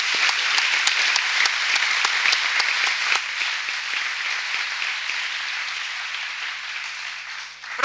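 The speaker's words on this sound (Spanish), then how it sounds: "quisiéramos acogerlo con un grandísimo aplauso" Applause welcoming Arturo Sosa, Superior General of the Society of Jesus, a large audience clapping loudly and steadily in a hall, the sound thinning slightly toward the end.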